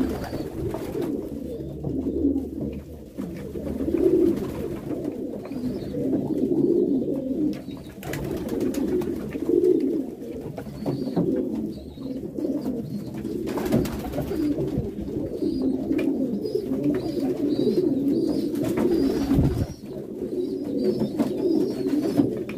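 Pigeons cooing while drinking water, soft repeated low coos in a steady rhythm close by, continuing throughout with occasional faint chirps and a few handling knocks.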